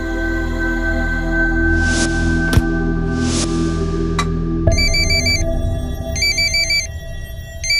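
An electronic telephone ringtone plays in repeating patterned bursts over a steady background hum, with a couple of clicks partway through.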